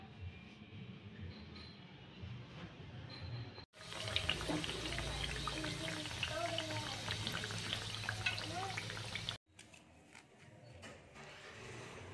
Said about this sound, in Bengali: এবার তেলেতে ভেজে নেবো এটা।